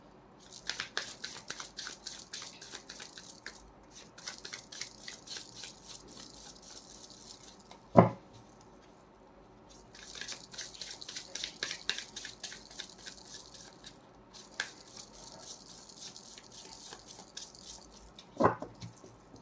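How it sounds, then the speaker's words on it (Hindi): Tarot cards are shuffled in quick bursts of soft, riffling clicks, with pauses between rounds and a couple of sharper taps, all fairly quiet and close. "तब तक मैं कार्ड शफल कर रही हूँ"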